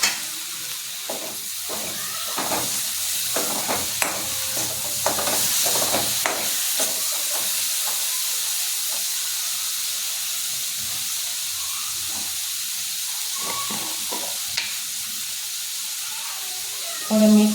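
Tomatoes go into a hot pan for ambadi sukat bhat and hiss loudly. A sharp sizzle with scraping stirs and clatter in the first seconds settles into a continuous steamy fizz, ending with a brief knock.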